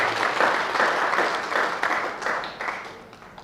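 An audience applauds at the official launch of the Club des Comptables du Sénégal, a dense, loud round of clapping that swells and then tapers off over a few seconds.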